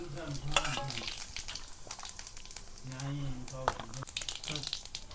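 Cumin seeds hitting hot oil for kantola (spiny gourd) shaak, a soft sizzle with stirring and the clink of a spoon on the pan, a voice talking over the cooking.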